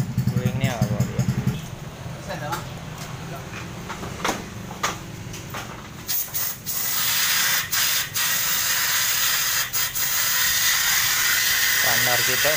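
Spray can hissing onto the stand of a Honda Spacy scooter during an oil change, a steady loud hiss in long bursts after someone talks at the start, with clicks and knocks between sprays.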